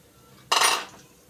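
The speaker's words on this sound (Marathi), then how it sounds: "आता मग मी त्याच्यामध्ये ही बारीक शेवया घालत आहे।" Fine vermicelli drops into ghee in a pan with a single sudden burst of sizzle and rustle that fades over about half a second after a quiet start.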